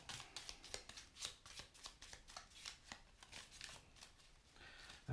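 A deck of playing cards is shuffled in a run of quick, crisp riffling bursts that repeat steadily for several seconds, close and moderately loud, with no talking.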